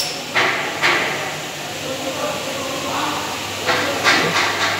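A press brake bends metal in a workshop, giving several sharp clanking impacts in two clusters, one early and one late, with a steady machine hum between them.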